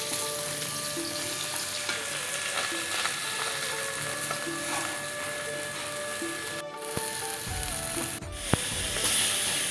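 Tilapia fish fries in hot oil with a steady, close sizzle that runs throughout, broken by a couple of brief utensil clatters near the end.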